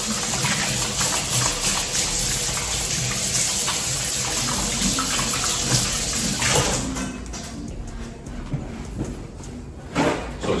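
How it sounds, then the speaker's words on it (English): Hands being washed under a running tap, a steady loud gush of water that thins and breaks up toward the end. "so I'm gonna wash my hands real quick"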